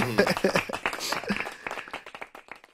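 Hands clap in a quick burst of applause during a podcast, overlapping with speech at first and fading into scattered claps.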